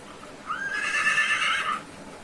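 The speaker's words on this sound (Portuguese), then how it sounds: "Ele relincha, ó." A horse gives one clear, loud whinny that rises and holds for just over a second before dropping away, heard alone and close.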